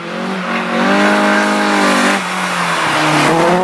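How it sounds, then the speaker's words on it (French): Porsche Group 4 race car climbing a historic hill climb course, its engine loud and close with strong harmonic revving that rises, dips at a gear change and climbs again, recorded from inside or near the car. "rouler en passager d'André Caruso dans la Porsche Groupe 4 de Philippe Gache"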